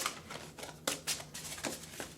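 Tarot cards are shuffled in quick riffling bursts, several papery flutters in a row, close and fairly quiet.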